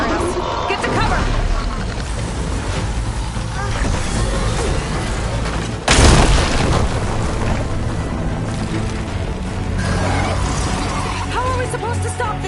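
A machine fires explosive rounds in the video game Horizon Forbidden West, with one heavy boom bursting out midway over a constant roar of game noise and battle sound, while voices talk throughout.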